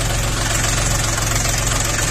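A cold Lovol 24 hp mini tractor engine idles with a loud, steady, close-up rumble and an even knocking pulse that runs throughout without any change in speed.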